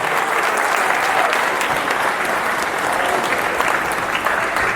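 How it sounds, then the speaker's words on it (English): Loud, dense round of audience applause filling the room evenly and continuing steadily without any voices. "Give them a round of applause, man."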